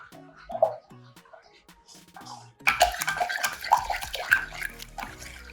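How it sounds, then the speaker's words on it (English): Water runs and splashes into a pot, a steady pouring rush with clinks of metal, preceded by a few quieter kitchen clatters while making radish kimchi. "So you get some water, pour it in a pot."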